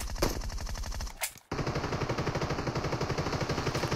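Rapid automatic gunfire in PUBG Mobile team deathmatch, loud bursts of a GROZA rifle with a brief pause before a sustained stream of evenly spaced shots.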